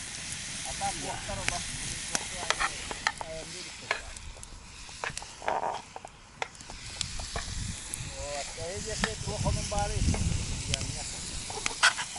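Steady sizzling and popping of meat frying in lard in a pan, with intermittent crackles and stirring sounds throughout.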